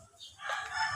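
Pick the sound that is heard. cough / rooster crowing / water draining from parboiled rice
rooster crowing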